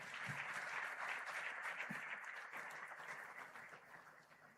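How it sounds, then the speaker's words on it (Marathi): An audience at a student organisation's speech gathering breaks into applause, a dense, steady clapping that sounds fairly distant and soft and tapers off slightly toward the end. "ह्या दोन्हीही महान विचारवंत आणि कृतिशील विचारवंतांसाठी जोरदार टाळ्या झाल्या पाहिजेत"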